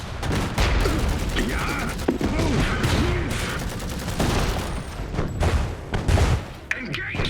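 Rapid gunfire bursts from the WWI-era mech strategy game Iron Harvest, a loud, dense fusillade that keeps going throughout with booms mixed in, while someone talks over it.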